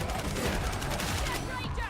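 Rapid gunfire in Warhammer 40,000: Darktide, a dense, loud, continuous burst of shots with overlapping impacts filling the whole moment.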